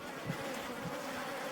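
Apis cerana indica honey bees at an open feeding station in Himachal Pradesh, India, giving a steady, close insect drone that holds evenly throughout with no voices.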